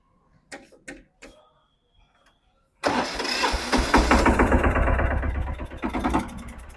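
A new-model Captain mini tractor engine: a few scattered knocks and clicks, then the engine cranks to life and settles into a steady, loud, close-up running chug that continues to the end.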